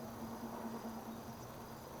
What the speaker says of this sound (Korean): 귀뚜라미 소리 들리시나요?